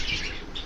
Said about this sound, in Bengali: আমার শখের পাখিগুলো মাশাআল্লাহ খুব সুস্থ আছে, সুন্দর আছে এবং অ্যাক্টিভ আছে প্রচুর পরিমাণ